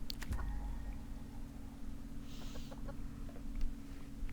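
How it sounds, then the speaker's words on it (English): Chickens cluck softly in the background at a rural homestead, with a couple of short calls and occasional rustling over a low steady hum. "Yes, I haven't forgotten the chickens."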